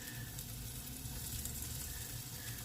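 Thin turkey burgers frying together in one pan, a constant close dense sizzle with faint spatter, no voices.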